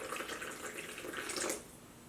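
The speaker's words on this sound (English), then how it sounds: "I'm gonna start to take my water, and I'm only gonna put in a 1/2 cup so far." Water is poured into flour for a simple yeast-free pizza dough, a close, steady splashing trickle lasting about a second and a half before it stops, with no talking.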